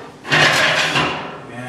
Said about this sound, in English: You have a nice ash pan. It slides out.